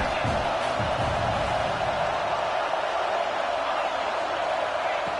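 A football stadium crowd in a video game roars steadily on third down, a dense, constant wash of cheering that stays loud and even throughout.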